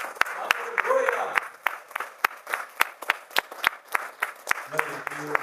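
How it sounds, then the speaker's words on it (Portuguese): Church congregation applauding during a communion service, rhythmic claps spread across the room at moderate level, with a voice speaking over the clapping. "Vamos aplaudir ao Senhor."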